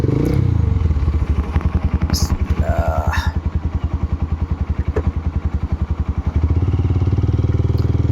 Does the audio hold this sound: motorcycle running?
yes